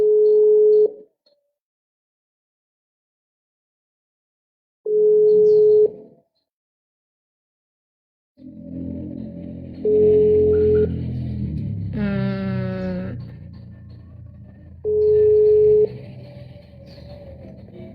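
An outgoing phone call rings unanswered: repeated long electronic ringback tones at steady intervals, with a stretch of background noise and a brief rising tone between them.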